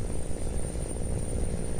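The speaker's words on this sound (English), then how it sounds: "The drop in momentum makes the engine really struggle." A truck engine drones steadily in Euro Truck Simulator while the vehicle loses momentum and labours, a low continuous hum with no talk over it.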